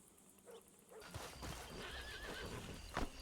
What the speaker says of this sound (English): I heard a horse neigh.